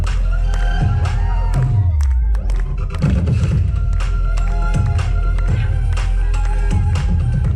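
A crowd at a dance battle cheers and whoops loudly for a Brazilian dancer over thumping music, the noise dense and sustained with occasional shouts rising out of it.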